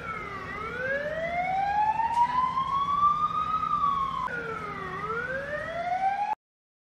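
A loud wailing ambulance siren rising and falling in long sweeps, close by and continuous, with faint traffic rumble beneath.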